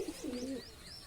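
A single Andhra pigeon, just released, gives one short, close, low coo that fades into quiet background noise.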